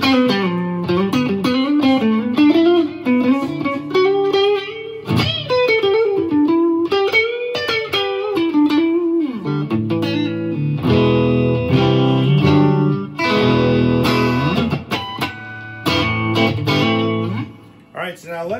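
Electric guitar played through a Line 6 Helix modeling a Deluxe Reverb amp, loud and continuous with chords and melodic lines, sustained notes and a brief pause near five seconds.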